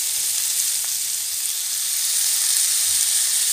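Paneer cubes frying in a pan for paneer bhurji fried rice, giving a steady, close, even sizzle with soft hiss and no pauses throughout.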